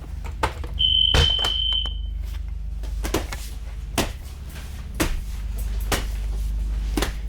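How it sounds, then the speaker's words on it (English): A bus emergency exit alarm beeps shrilly for about a second, followed by several sharp clunks and clicks of the exit latch or panel in a quiet space. "They open and the alarm goes off."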